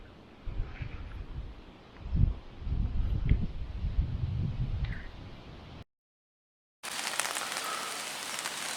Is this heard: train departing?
no